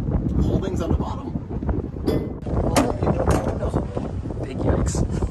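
Strong wind buffets the microphone atop a fire watch tower in West Virginia, a continuous loud roaring rumble with gusty surges throughout, with speech mixed in.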